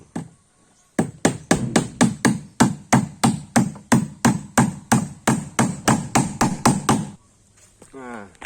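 Hammer blows drive nails into wood during a boat restoration, about twenty sharp, evenly spaced strikes in a steady rhythm, loud and close, with brief quiet before and after.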